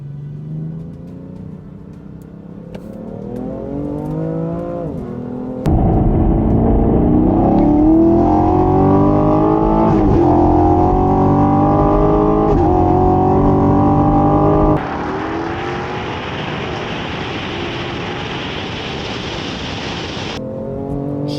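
A BMW F80 M3 Competition with DCT, a Camaro LT1 with a 10-speed automatic and a Challenger 392 T/A with an 8-speed automatic roar through a drag race, engines revving hard and climbing through gear changes, loud and close.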